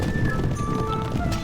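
Horses gallop in the Stronghold Legends video game, a brief, dense clatter of hooves under a constant loud rumble.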